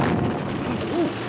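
A bombing explosion effect from a film rolls as a deep, sustained boom with low rumbling, loud and dense across the whole short moment.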